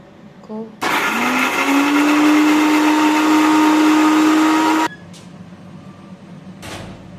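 A mixer grinder whirs loudly at close range for about four seconds, grinding soaked cashews into a paste, with a steady rising motor whine that stops abruptly, followed by faint clatter.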